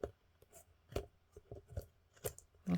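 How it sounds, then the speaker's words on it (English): Scissors snip through old calendar paper while trimming the edges of a handmade journal cover, a few short separate cuts at close range with quiet pauses between them. "you might have to still get in there with your scissors"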